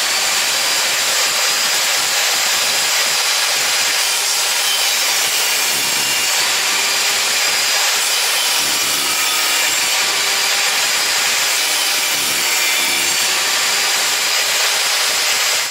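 A VEVOR 1800W table saw cuts through a hard pressed wood beam, a loud, steady high-pitched whine with grinding texture that never lets up, close and alone for the whole stretch.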